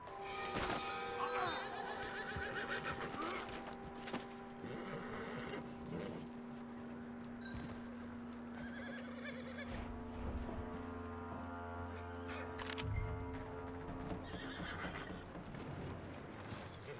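A horse in Red Dead Redemption 2 neighs and whinnies loudly and close, then snorts and stamps as the game's ambient sounds run beneath it.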